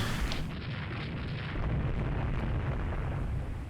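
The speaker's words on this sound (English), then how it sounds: "That was a lucky ass torpedo." A torpedo strikes a warship in the naval strategy game Rule the Waves 2, a heavy, rumbling explosion that bursts out loud and then rolls on as a dense, low roar for several seconds.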